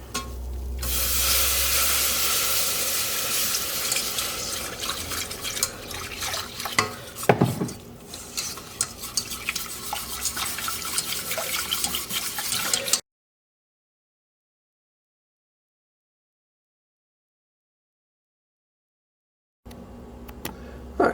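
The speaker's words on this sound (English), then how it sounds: "So now scrape that all off and put in our whisk and start to add our milk" Milk being whisked into a mac and cheese sauce in a pot, a steady close scraping, stirring rattle with faint sizzle for about thirteen seconds, then silence before the stirring briefly resumes.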